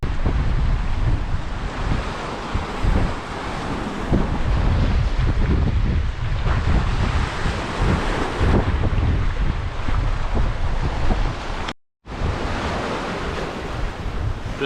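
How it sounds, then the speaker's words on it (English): Strong wind buffets the microphone over rough sea waves breaking continuously on the Cardiff foreshore of the Bristol Channel, a loud, steady roar with one brief dropout. "The wind hasn't died down, to be honest with you. The waves are still really rough."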